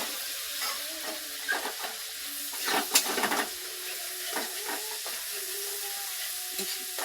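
Spice paste frying in an equal measure of oil while being stirred, a soft continuous sizzle with repeated scraping strokes and a brief louder clatter, close up, no talk.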